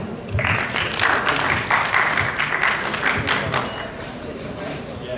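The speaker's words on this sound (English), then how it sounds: "let's welcome him with a big round of applause" An audience at a keynote event in Lahore claps for a speaker coming on stage, a loud, dense round of applause that holds steady and then eases slightly toward the end, with a faint voice underneath.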